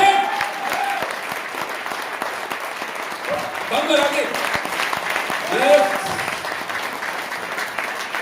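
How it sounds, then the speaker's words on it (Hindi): Steady applause from an audience runs throughout, with a voice speaking briefly over the clapping now and then. "एक बार जोरदार तालियां बजा दीजिए।"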